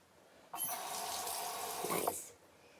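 A straight razor rinsed off under a running tap: a steady, fairly close gush of water into a sink lasting about two seconds, starting abruptly and tapering away, with no talking.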